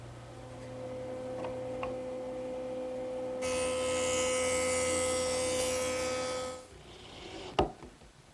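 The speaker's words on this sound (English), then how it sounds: "The joiner does a nice job smoothing up the saw cut." A jointer smooths a saw cut on wood. A motor hum runs throughout, then a loud, bright cutting whir lasts about three seconds and winds down, followed by a sharp knock.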